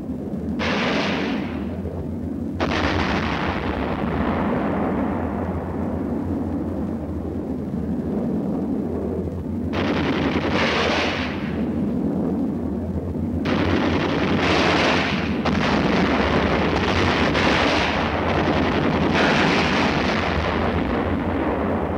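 Korean War artillery fire and explosions, deep rumbling booms recurring every few seconds with sharp cracks over a constant low drone, loud and distant-sounding in a combat setting.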